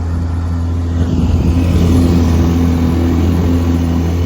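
A 6hp outboard boat motor idles while warming up, a steady, loud low drone with a constant hum and a slight rise in intensity midway, no voices.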